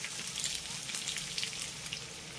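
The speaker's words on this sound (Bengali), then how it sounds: "এবার মিডিয়াম ফ্লেমে এই আদা আর কাঁচা লঙ্কা কুচিটাকে আমি এই জিরের সঙ্গে খুব ভালো করে ভেজে নেব" Whole cumin, chopped ginger and green chilli frying in ghee over a medium flame, a steady close sizzle with soft popping crackles and no talking.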